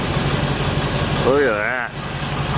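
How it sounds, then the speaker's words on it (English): A 500-horsepower Mercedes SL55 AMG idles after running for a while, a steady, even engine drone that fills the whole clip while someone speaks briefly over it. "so the car's been running for a little bit"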